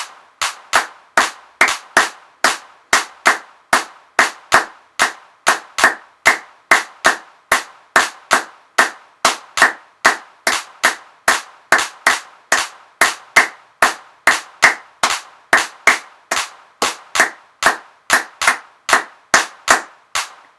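Sharp hand claps repeat in a steady syncopated clave pattern for about twenty seconds, crisp and close with no voices, part of a children's jazz rhythm class.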